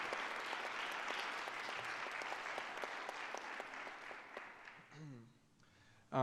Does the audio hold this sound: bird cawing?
no